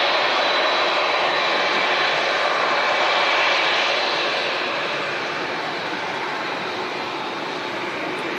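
A Boeing 787 Dreamliner at Manchester Airport gives off a broad, loud engine roar that swells and then eases slightly as it moves past, with no talk over it.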